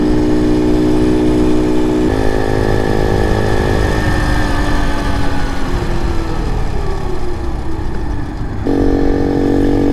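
A Honda CT70 clone motorcycle engine held at wide open throttle, droning loud and close with a steady high-revving note that shifts pitch slightly as it rides on.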